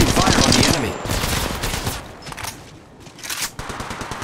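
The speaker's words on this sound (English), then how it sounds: "Opening fire on the enemy." Rapid automatic gunfire in Apex Legends Mobile rattles off in close, punchy bursts, with a dense stream of shots at first, then shorter volleys separated by brief pauses.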